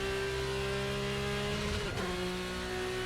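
An RSS Formula 3 V6 race car in Assetto Corsa holds a loud, steady high-revving engine drone, then the pitch drops sharply on a downshift before settling again, with no speech.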